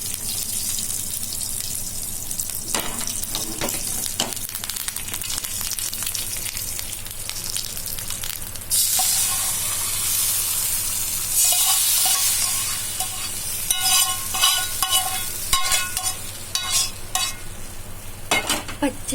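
Tempering for pacchi pulusu sizzles and crackles in a pan, a steady frying hiss broken by sharper bursts of spattering and stirring, close and loud with no voices.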